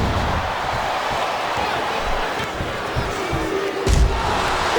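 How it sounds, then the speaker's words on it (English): Roaring arena crowd in the wrestling video game WWE SVR 2008, a steady loud wash of cheering that runs through the whole stretch, with a sharper burst near the end. "I've never seen a crowd so fired up, JR."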